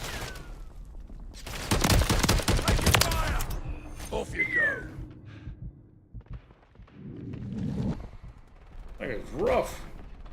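Gunfire in Call of Duty Warzone Resurgence (Modern Warfare III): a dense burst of rapid automatic shots in the first seconds, then scattered sharper reports and mixed game noise at moderate loudness.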